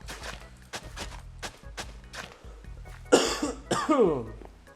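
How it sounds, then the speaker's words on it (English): Two harsh, close coughs burst out near the end, preceded by a steady rhythmic thumping like footsteps or Minecraft SkyFactory 4 game sounds underneath. "I hate coughing."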